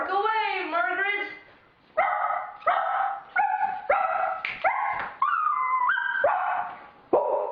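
A person imitates a dog, producing a run of about a dozen loud, close barks and yips with short gaps between them, rising and falling in pitch.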